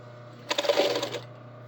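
Sewing machine stitching a garment with a snap-closure button row, a short burst of rapid needle clatter lasting under a second, close and moderately loud over a steady low hum, with no talking.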